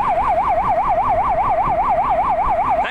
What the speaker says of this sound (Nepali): हामी एम्बुलेन्समा छौँ